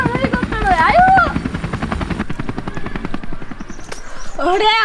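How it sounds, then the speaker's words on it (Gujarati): A large helicopter arriving overhead, its steady rhythmic rotor thump loud and continuous throughout, with people's voices briefly talking over it near the start and end. "આયો આજ માર ઘરવાળો હેલિકોપ્ટર આવ્યો."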